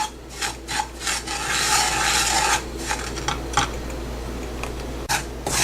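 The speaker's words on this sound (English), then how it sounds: "First roast the rava. Stir it continuously, otherwise it will stick into the pan." Rava (semolina) is stirred and roasted in a pan, a spoon scraping and rasping against the metal in repeated strokes, close and clear, with one longer continuous scrape and no voices.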